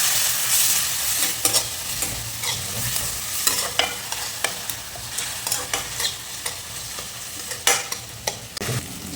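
Ginger garlic paste sizzles in a pan with browned onions for a chicken gravy, a steady frying hiss broken by repeated scraping stir strokes, close and alone with no talk.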